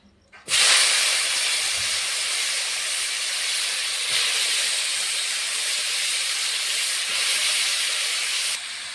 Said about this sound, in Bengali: কড়াইতে তেল দিয়ে দিয়েছি, এখন উচ্ছে আর আলুটা দিয়ে দেব।